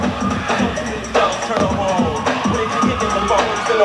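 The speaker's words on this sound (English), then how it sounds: "We got a loud crowd out there today." Loud crowd at a live hip-hop performance, a noisy hubbub of cheering and shouting voices with bursts of energy, close and boisterous, people yelling over one another.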